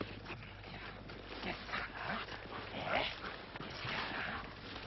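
An avalanche rescue dog works a training search on a snowy slope, giving faint, scattered yips and whimpers over steady outdoor noise and low hum, with no one speaking.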